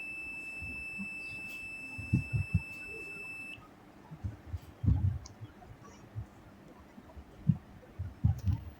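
A thin, high-pitched electronic alarm tone from an LPG gas detector in a smart home security system sounds steadily for a few seconds and then cuts off, among scattered soft clicks and thumps.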